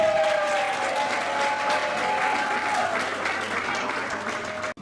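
Audience applause at a gathering in Burkina Faso, a fairly quiet, steady spread of clapping with a faint tone running underneath, ending abruptly.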